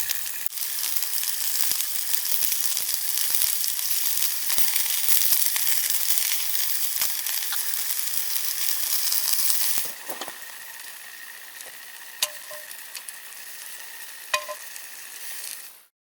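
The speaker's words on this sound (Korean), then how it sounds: "불 위에서 익어가는 등갈비, 지글거리는 소리." Steady crackling sizzle of pork ribs cooking over a fire at a campsite, loud and close for ten seconds, then quieter with a few sharp clinks and pops.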